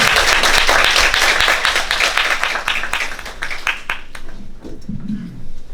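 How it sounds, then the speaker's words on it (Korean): Applause from an audience welcoming a Seoul National University nuclear engineering professor to a talk, loud sustained clapping from a full room that thins out and fades toward the end. "큰 박수로 환영해 주시면 감사하겠습니다."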